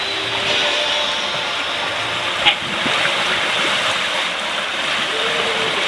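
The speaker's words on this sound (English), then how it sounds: "Running with the waves and the wind, it's beautiful." A sailboat runs downwind with the waves in a light seven-knot breeze at sea, giving a continuous broad rush of water and wind noise, close and steady, with one brief knock partway through and no talk.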